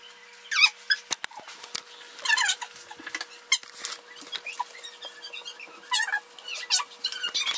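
A dog pup named Oso whimpers and squeaks in a rapid, high-pitched run of short yelps that keeps going throughout. The cries are fairly faint under a steady low hum.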